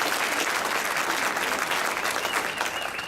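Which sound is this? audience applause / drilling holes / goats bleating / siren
audience applause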